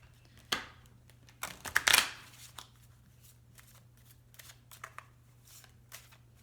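Tarot cards being shuffled by hand indoors, a few brisk riffling bursts and scattered soft card taps at low volume, with a faint steady hum underneath.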